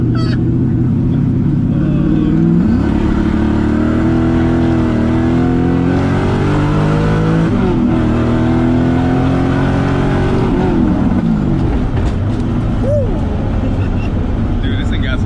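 An LS-swapped Nissan 350Z drift car revs hard while doing donuts, its V8 note rising and falling in loud, sustained sweeps with brief dips as the throttle changes, close and dominant for the whole stretch.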